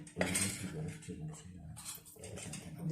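Utensils scrape and clink against a pot of molokhia in steady stirring motions, fairly close and continuous, with no talking.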